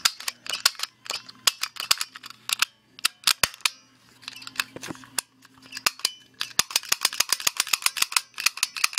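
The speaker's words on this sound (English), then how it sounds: "Cap gun lives, and yes," A toy cap gun is fired repeatedly, giving sharp, close snaps in quick irregular bursts with short pauses between them, then a rapid run of cracks near the end, with no speech.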